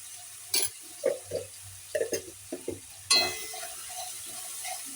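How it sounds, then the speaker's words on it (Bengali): Ginger garlic paste hits fried onions in a pan, giving a soft sizzle under several short scraping stirs of a spatula, close and fairly quiet, with a brief louder sizzle burst near the end. "ভাজা ভাজা হয়ে গেলে এবারে এর মধ্যে আদা রসুন বাটা দিয়ে দিচ্ছি।"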